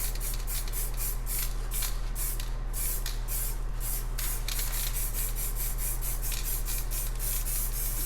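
Rust-Oleum spray paint hisses from the can in short misty bursts at close range, a steady airy spray with repeated pulses over about eight seconds, no talking.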